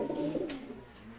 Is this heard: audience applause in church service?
no